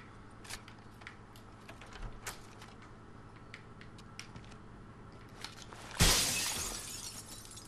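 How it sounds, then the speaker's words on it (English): Glass shatters from gunfire in the video game Rainbow Six Vegas 2, a sudden loud crash breaking out late after scattered quieter clicks and shots, then a ringing spray of falling shards. "Busting out glass everywhere."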